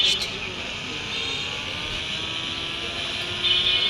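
A vehicle engine drones steadily while driving on a slippery road in an Indian bike video game, a loud continuous mid-pitched hum with slight swells, under a speaking voice.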